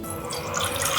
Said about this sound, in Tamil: இப்போ ஒரு பாத்திரத்தில் நம்ம கொஞ்சம் தண்ணி விட்டு கொதிக்க வைக்கலாம்.